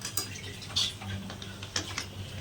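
Country chicken pieces being stirred into tempered masala in a pan, heard as a few light metallic spoon clinks and scrapes against a low steady background hum.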